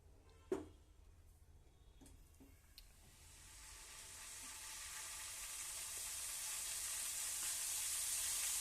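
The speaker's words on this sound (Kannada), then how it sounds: "ಒಗ್ಗರಣೆ ಹಾಕ್ತೀನಿ ಇವಾಗ" Kannada-style tempering (oggarane) hitting hot oil in a pan for mint gojju rice, a few faint clinks at first, then a steady sizzle that swells and keeps building loudly to the end.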